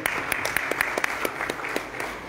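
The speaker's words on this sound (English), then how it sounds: "So please give him a big round of applause." Audience applause at a launch event for a fish harvesting women's cooperative, a steady wash of many hands clapping with a few sharper claps standing out, loud and continuous throughout.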